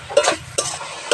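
Prawns and taro stems stirred in a frying pan, with three distinct scraping stirs over a steady sizzle, close and moderately loud with no talking.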